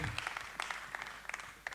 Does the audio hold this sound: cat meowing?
no